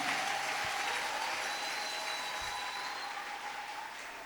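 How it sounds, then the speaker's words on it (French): A church congregation claps together during a Christian worship sermon. The applause is steady, faint and distant, and a sustained tone is heard underneath. "Applaudissons pour le Seigneur Jésus."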